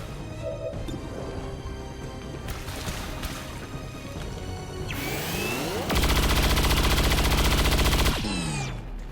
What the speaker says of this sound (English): Let's tuck Shotgun behind cover and see if he can trim off Blightwalker's armor.